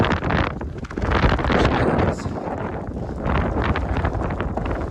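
Strong gusty wind on a mountain trail on the Appalachian Trail in New Hampshire, roaring and buffeting hard against the microphone in uneven surges with no talk.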